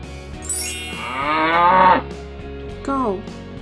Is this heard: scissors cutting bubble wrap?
no